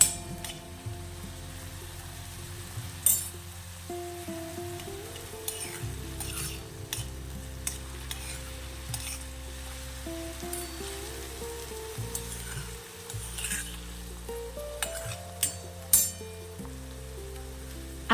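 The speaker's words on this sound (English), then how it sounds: "Add the finely chopped onion to the kadhi. Let the onions cook until they become slightly translucent." Finely chopped onions frying in oil in a kadhi, a soft continuous sizzle with occasional clinks and scrapes of a spoon stirring the pan, mixed under a faint background tone.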